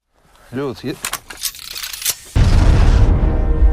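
A land mine explodes: a sudden heavy boom erupts after a few seconds of voice and metallic clinks, then a loud rumbling roar lingers.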